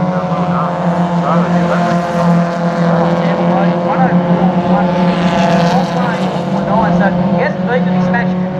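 Hyundai Excel race cars in a circuit race at Baskerville, engines droning steadily at speed with shifting pitch, loud and continuous under excited commentary.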